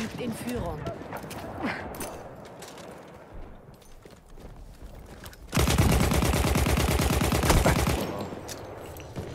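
Sustained rapid automatic gunfire in the World War I shooter Battlefield 1, loud and continuous for a couple of seconds after quieter ambient battle noise, with German-speaking players talking over the action.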